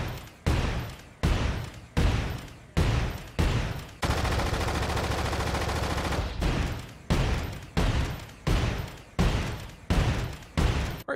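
Video game weapon with a GUNDAM ZAKU II tracer pack firing loud close bursts: short repeated volleys with a long sustained automatic stretch in the middle, no talking.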